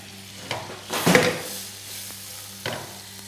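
Onion and carrot sautéing in a pan for spring roll filling, a close steady sizzle broken by a few scraping stirs and light clinks of a utensil against the pan.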